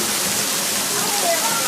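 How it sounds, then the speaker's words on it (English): Waterfall in the Smoky Mountains rushing in a steady, loud broadband roar heard close up, with no break in the flow. "the part where we're actually going to walk behind the waterfall"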